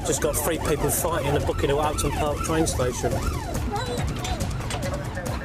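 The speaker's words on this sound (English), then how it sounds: "the blues and twos are going on the police vehicle" A police dog van's wailing siren rises and falls rapidly and loudly in London, while someone speaks over it from inside the vehicle.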